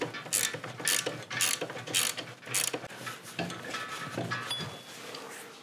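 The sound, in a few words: ratchet loosening old screws on a vintage moped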